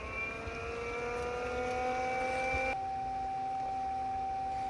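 An Aquastrong variable speed pool pump runs at its lowest speed, 1,300 RPM, a steady, even motor hum with a faint whine, constant and unbroken, heard alone with no talking.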